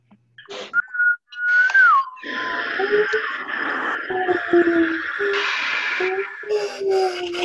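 Several wind whistles blown by participants in an online community equinox gathering, with rising and falling whistled tones overlapping in short bursts and longer sweeps against a hissy background.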